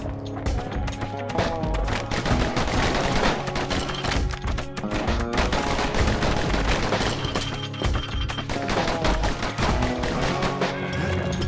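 Rapid, dense gunfire and booming impacts fill the action video game Bastion, firing in continuous loud volleys over layered game music.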